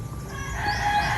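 A rooster crows once close by, a short, bright call ringing out over faint background noise at a house.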